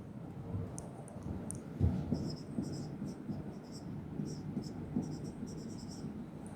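Pen writing the year and month into a cash book, soft scratchy strokes and light taps in short bursts over low room noise, with faint voice-like murmur underneath.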